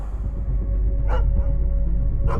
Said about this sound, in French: des dizaines de chiens hurlaient au loin